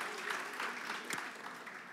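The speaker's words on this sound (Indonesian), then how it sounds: "Tepuk tangan buat teman-teman semua dulu di sini dong" A church congregation at a Christmas service gives a short round of applause, a soft, even patter of many hands heard at a distance for about two seconds.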